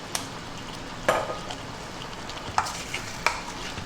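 Pork ribs stir-frying with light soy sauce in a wok, heard as a soft steady sizzle with a few sharp metallic clinks and scrapes of the spatula against the pan.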